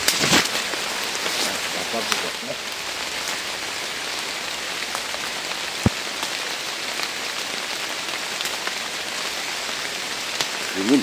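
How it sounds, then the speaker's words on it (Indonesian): Heavy rain pours steadily on a forest campsite, a dense constant hiss with scattered drops hitting close by, running the whole time with no talk over it. "Wis, deras hujan sobat."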